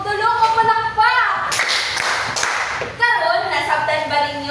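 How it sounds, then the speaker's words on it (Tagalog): A class of children in a physical education lesson gives three rhythmic claps of applause for a classmate, a short burst of clapping between stretches of loud speech from a teacher and children. "Tagaan nato si Perfecto og tulo ka palakpak."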